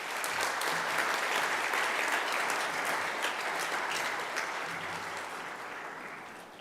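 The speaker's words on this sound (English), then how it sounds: "Can we give this group a round of applause," Sustained audience applause at a Grade 9 school prize-giving, dense steady clapping from a crowd that holds strong for several seconds before gradually tapering off.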